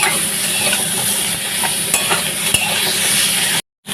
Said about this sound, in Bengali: হালকা ভাজা ভাজা করে নেবো